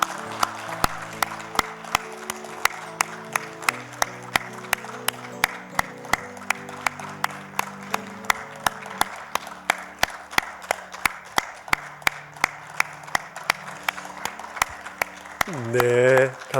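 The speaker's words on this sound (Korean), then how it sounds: "나가실 때 여러분 박수로 계속 축복해 주십시오." A church congregation at a Christmas service claps in blessing as mothers return to their seats with babies, with sharp, regular claps over organ or keyboard chords throughout, and a voice rising at the very end.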